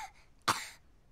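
One short, dry cough from a small cartoon bear cub, close and brief against a quiet background.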